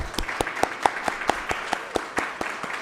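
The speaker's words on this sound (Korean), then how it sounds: "목사님도 잠깐 일어나시고 뜨거운 박수로 환영하십니다" A church congregation at a revival meeting claps to welcome a visiting pastor, a steady rhythmic unison beat of loud, evenly spaced claps over a softer wash of scattered applause.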